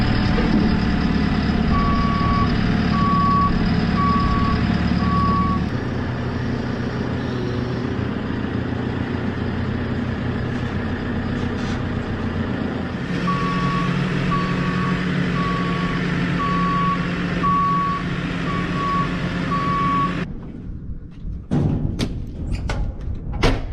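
A JCB loader backing up onto ramps sounds its reversing alarm, a regular loud beep repeating in two long stretches over a rumbling diesel engine, then gives a few thuds as it settles and goes quiet.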